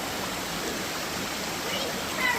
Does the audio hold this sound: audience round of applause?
no